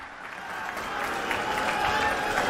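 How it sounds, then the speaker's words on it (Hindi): A crowd applauding at a political rally, the clapping swelling from a softer start into a fuller, louder ovation, heard from some distance. "जोरदार तालियों से स्वागत करिए मनीष जी का"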